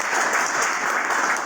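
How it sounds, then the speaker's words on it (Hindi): An audience at a business seminar claps for someone speaker, a brief dense burst of applause at even loudness throughout. "एक बार मैडम की तालियां"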